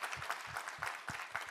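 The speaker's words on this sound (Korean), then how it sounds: "우리 하나님께 감사와 영광의 박수 올려드리겠습니다" A congregation gives a faint, rhythmic round of applause during an early-morning church service, with clapping in steady pulses heard at a distance.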